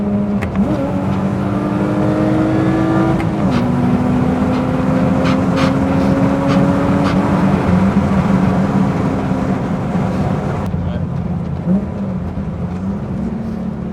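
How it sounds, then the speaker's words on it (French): A lowered BMW E36 revs its engine with a throttle blip while downshifting: a steady, loud engine drone whose pitch jumps and then settles, running nearly alone throughout. "c'est le petit coup de gaz en rétrogradant"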